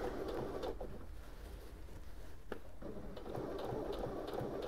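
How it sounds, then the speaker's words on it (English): A Singer Heavy Duty HD6805C sewing machine runs steadily with a fast mechanical chatter, fairly quiet and close, with a few small clicks along the way. "This one just seems to want to sew."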